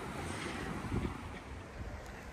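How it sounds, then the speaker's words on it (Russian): Steady wind buffeting the microphone, a constant rough roar with low gusty rumble and no voices. "У нас ветер, как всегда."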